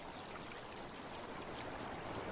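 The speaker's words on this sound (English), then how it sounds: "The sound of running water triggers an obsessive desire to build." Water runs in a stream in a steady, even babble of trickling and rushing that stays constant and moderately loud from start to finish.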